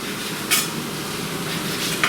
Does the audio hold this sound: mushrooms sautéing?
yes